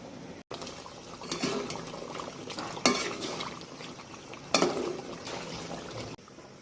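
Water poured into a pot of spiced chicken curry, a steady close splashing and bubbling pour with a few sharper sloshes and clinks, no voices.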